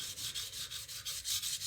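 A plane iron's bevel is rubbed on a coarse sharpening stone in quick back-and-forth strokes, about ten in under two seconds. The strokes make an even, close gritty rasp.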